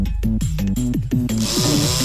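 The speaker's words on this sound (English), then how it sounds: "The setting on the drill called hammer makes the head spin forwards, then backwards in short bursts." A power drill on its hammer setting bores a 2-inch hole through wall tile for a urinal installation, its motor whining and rattling in continuous, shifting bursts, loud and close.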